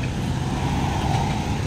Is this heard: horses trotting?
no